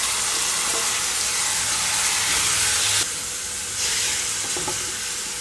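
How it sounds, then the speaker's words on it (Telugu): Chopped tomatoes dropped into a hot frying pan sizzle loudly and continuously up close, the broad hiss dipping slightly midway and then carrying on steadily with no talking. "ఇప్పుడైతే ఇక్కడ నేను టమాటా యాడ్ చేస్తున్నాను"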